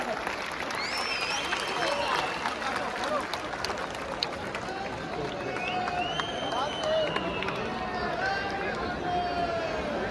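Audience applause at a kavi sammelan poetry event in Chhattisgarh, a sustained crowd clapping welcoming the poets, steady and fairly loud over the whole stretch with some cheering and voices mixed in.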